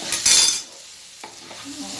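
Bamboo shoot and potato with pigeon meat frying in a pan, opening with a brief bright sizzle burst, then a quieter hiss and a couple of light stirring knocks.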